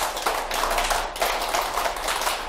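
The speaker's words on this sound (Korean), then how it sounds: "박수 열 번 치고" A room full of people claps together in quick unison, a fast rhythmic burst of sharp claps at a Korean teacher-exam strategy seminar, moderately loud and steady for a couple of seconds with no talking.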